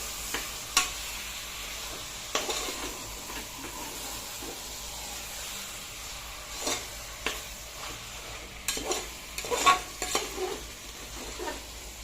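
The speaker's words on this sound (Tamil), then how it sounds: "சிக்கனை போட்டு நல்லா மிக்ஸ் பண்ணி விடணும்" Chicken being stirred in a pot for biryani: repeated spoon scrapes and clinks against the metal over a soft, continuous sizzle, close and fairly loud, with no talking.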